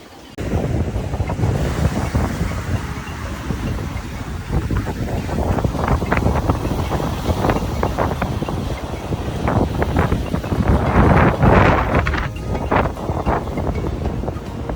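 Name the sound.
strong wind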